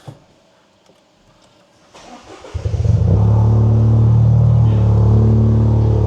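After a quiet moment a Toyota GR Yaris with a larger-bore aftermarket exhaust cranks and cold starts, settling into a loud, deep, steady idle rumble from the exhaust.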